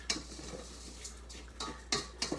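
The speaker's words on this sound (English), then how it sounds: "You're toasting the orzo and rice together." Orzo and rice toasting together in a pan for risotto, stirred with a utensil that scrapes and clinks against the pan in a few quiet, intermittent strokes over a faint sizzle.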